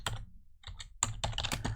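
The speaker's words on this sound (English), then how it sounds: "you can simply type Pi-hole" Quick typing on a computer keyboard, a close, crisp burst of key clicks with a brief pause in the middle, then more rapid taps.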